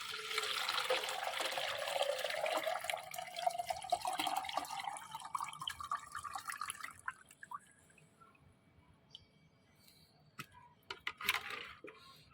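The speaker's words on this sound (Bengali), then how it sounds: "সেই পাত্রের মধ্যে কিন্তু আমি এটা ছেঁকে নেব।" Homemade liquid fertilizer for hibiscus plants is strained into a container, giving a steady pouring, trickling rush for about seven seconds before it thins to scattered drips and small clinks.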